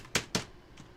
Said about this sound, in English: God, I hate this keyboard.